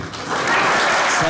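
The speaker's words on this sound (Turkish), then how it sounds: "Bütün ekibe bir alkış." An audience in a television sketch comedy studio bursts into applause, a dense close roar of clapping that swells and holds steady through the short burst.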